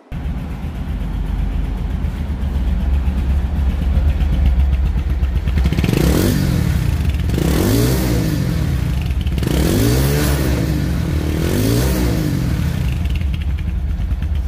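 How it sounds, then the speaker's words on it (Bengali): A Runner Bullet 100 motorcycle (2020 model) engine runs steadily and loudly up close, with four throttle revs rising and falling in a regular rhythm partway through. "এখন গাড়িটির সাউন্ড সম্পর্কে আসি। সাউন্ড শুনে বুঝতে পারবেন যে ইঞ্জিন কোয়ালিটি কেমন আছে।"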